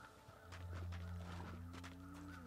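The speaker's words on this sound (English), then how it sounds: "I can hear footsteps." Footsteps crunch in the survival video game The Long Dark: a run of soft, fairly close steps over a steady low drone, with no talking.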